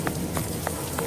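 Steady rain falls in the Sherlock Holmes vs Jack the Ripper video game, a constant wash of drizzle with a few brief brighter taps spaced through it, moderately loud and continuous with no talking.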